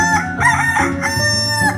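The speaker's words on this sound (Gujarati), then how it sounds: "કકુ કુકડો ખૂબ ગભરાટમાં ફફડતો આવે છે." A rooster crows loudly and close, a long drawn-out cock-a-doodle-doo with sustained pitched calls and a few clucking breaks, heard alone without talk.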